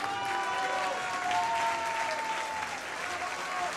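Thunderous applause from the audience at a 2011 bridal fashion show, dense and steady for the whole stretch, with faint music tones running underneath.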